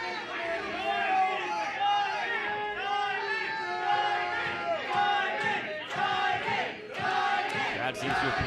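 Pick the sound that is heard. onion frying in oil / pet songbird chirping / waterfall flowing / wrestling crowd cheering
wrestling crowd cheering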